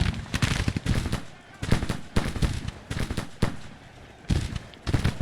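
Civil War battle gunfire in the Grand Tactician strategy game: loud bursts of rattling musket volleys and booming shots, coming in clustered rapid waves separated by short lulls.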